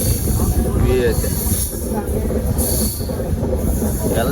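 Train wheels grind and squeal through a sharp L-shaped turn near Raibag station, a loud continuous rumble with high screeching streaks, heard from onboard.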